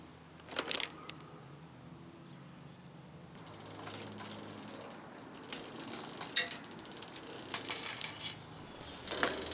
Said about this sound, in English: we'll use the tool to push the pin out just a little bit more